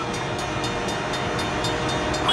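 Train approaching a rail crossing, a steady heavy rumble of wheels with regular rhythmic clacks, a sustained tone and rising loudness toward the end.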